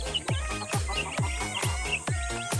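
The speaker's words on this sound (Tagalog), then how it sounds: "tayo po ay magpapatuka ng ating mga alaga sisiw dito sa taas" Newly hatched chicks peep and cheep during feeding time, with repeated close high-pitched calls in a steady rhythm and a soft clucking undertone.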